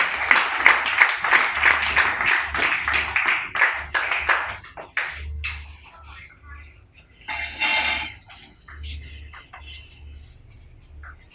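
Audience clapping at a women's month closing ceremony as a woman comes up to collect her gift, strong applause that fades, then scattered claps and a burst of noise.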